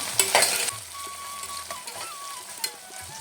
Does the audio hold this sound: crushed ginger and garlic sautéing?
yes